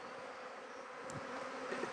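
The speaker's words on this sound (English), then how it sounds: "These bees are kind of everywhere." A dense, continuous buzzing of many honey bees from a colony being transferred from nucs, steady and close, with no talking.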